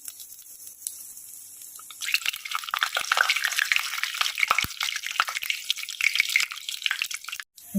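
Panch phoron spices hit hot oil in a wok at the start of a mutton curry and burst into a bright, crackling sizzle that stays loud and busy with sputtering pops after a quieter opening.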